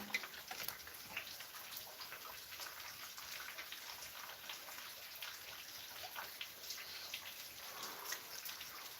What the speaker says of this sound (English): You don't want to go out in the rain.